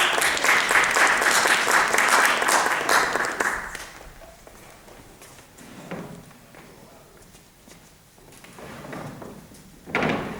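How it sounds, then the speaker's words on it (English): Theatre audience applauding a cast at the Old Rep in Birmingham, a loud dense burst of clapping for a few seconds that quickly dies away, followed by quiet stage shuffling and a few thumps. "round of applause for Oliver and his cast of the show"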